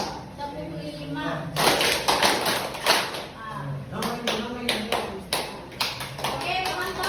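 Hands clapping in a counting clapping game, sharp claps in small groups and steady runs, close, mixed with children's voices speaking in between.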